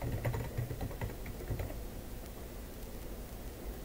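Keys patter on a computer keyboard as a name and password are typed, with a cluster of quick taps at the start that thins out into faint background noise.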